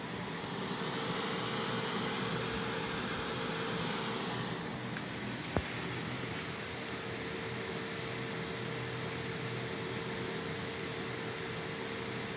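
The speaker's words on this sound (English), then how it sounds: "You can hear the fan is on." A cooling fan runs on a backup power unit during a power outage, giving a steady, fairly faint whir and hum with a tonal drone. One brief click sounds midway through.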